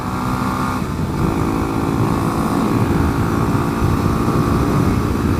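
A modified motorcycle engine, opened up for more top-end power, runs loud and steady close by, a continuous rough drone that holds throughout with no talking.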